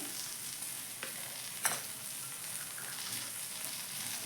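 Curry leaves and cumin fry in a pan for a side-dish tempering, giving a steady soft crackle with one sharp pop midway and a faint stir beforehand.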